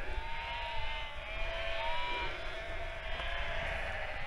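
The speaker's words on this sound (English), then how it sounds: "So many sheep." Sheep bleat repeatedly on open hill country in the North Pennines, several overlapping calls at moderate distance over light wind noise.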